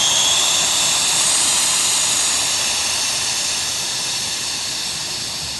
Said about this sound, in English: And you should hear the air starting to escape.